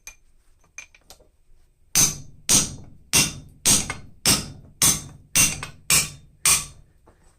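A hammer drives a 1/4 inch round punch to drift hot steel during forging of railroad spike tongs. After a few faint taps come about ten sharp, ringing metallic blows in a steady, even rhythm, heard up close.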